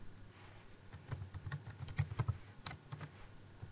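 Someone types a username on a computer keyboard, a quick run of soft, irregular key clicks at close range that speed up and cluster toward the middle, with no talking.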